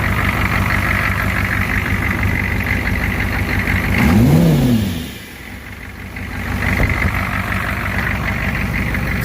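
A 6.5 turbo diesel engine with its fuel turned up runs loud and close, idling with a rattly knock, then revs up and drops back before settling to idle again, no talk.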